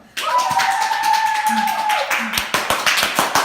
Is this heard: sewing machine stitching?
no